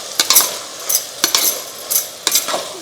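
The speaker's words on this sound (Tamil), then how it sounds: "தயிர் வந்து நம்ம சேர்த்த உடனே கிளறிட்டே இருக்கணும்" A spoon scrapes and clinks against a pot while curd is stirred into vegetable biryani, in short irregular bursts of close, bright metallic scraping with quiet gaps between.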